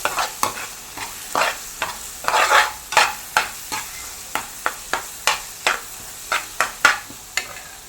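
Spice powder fries in a pan for a Kerala-style mackerel (ayila) masala fry, stirred with repeated sharp scraping strokes in a fairly regular rhythm over a soft sizzle, close and clear with no talking.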